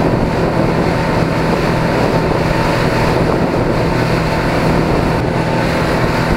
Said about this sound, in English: I cannot believe this boat is flying.